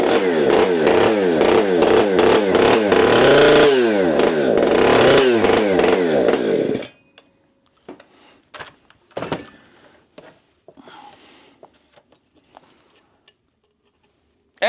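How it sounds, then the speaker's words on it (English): A chainsaw engine, just fitted with a rebuilt carburetor, revs loudly in rough bursts for several seconds, then dies. Scattered clunks and handling noises follow in near silence. "I have started it"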